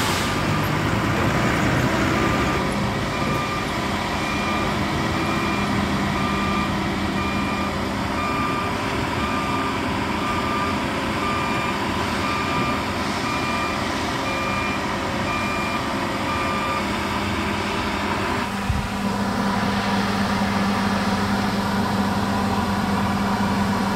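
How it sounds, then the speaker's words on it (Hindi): The heavy engine of an 1,100-tonne saddle carrier lifting a 1,000-tonne girder for a bullet train project drones loudly and continuously, with a faint repeating reversing beep running over the rumble throughout. "पास में से इंजन का साउंड बहुत ज़्यादा है।"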